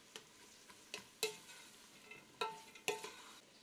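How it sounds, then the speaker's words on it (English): Onions coated in butter are stirred in a stock pot, giving a handful of sharp utensil scrapes and taps spaced about a second apart over a faint, quiet sizzle, with no talking. "I'm going to stir them all up"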